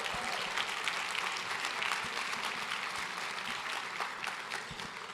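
Audience at an anniversary gala applauding, a dense, even wash of clapping from a large crowd that holds steady throughout at moderate distance.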